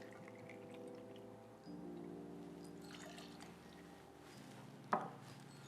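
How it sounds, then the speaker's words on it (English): Two ounces of Flor de Caña 4-year white rum poured into a measure or glass for a daiquiri, a quiet, brief liquid pour over a low background hum, ending in a small clink. "we're gonna place here 2 ounces of rum, white rum"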